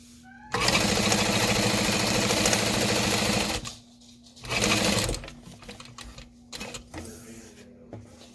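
A sewing machine bastes the bottom of a backpack closed at a long stitch length, running loudly for about three seconds, pausing, then running again briefly before faint handling noises.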